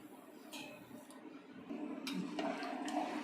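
Water pours steadily into a pot of rice for chicken biryani with a gurgling, splashing rush, close up and growing louder partway through.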